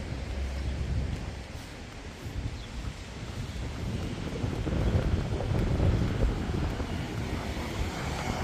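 Wind blows in a steady broadband rush under dark rain clouds near the sea, loud and continuous with slight swells and rumbling buffeting on the microphone.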